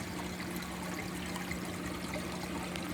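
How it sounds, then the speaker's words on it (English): Water spilling over a thin-wall overflow into a weir in a Durso standpipe setup with 1-inch thin wall tubing, running at maximum flow; a steady, close, even rush of falling water with a low hum underneath, no talking. "The water is just spilling into the weir."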